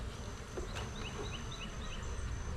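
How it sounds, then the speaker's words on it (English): Honey bees buzzing around an opened hive during an October inspection, a close, dense hum with individual bees whining past, steady throughout and without talk. "Okay, I got a lot of bees here."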